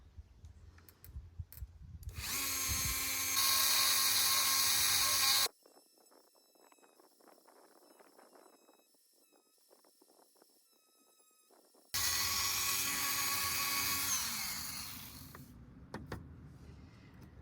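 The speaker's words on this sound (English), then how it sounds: "I've now got to attempt to drill a hole there." Two loud bursts of a hand-held power drill whining steadily at close range, boring a hole in a handheld object, separated by a quieter stretch of faint handling and creaking.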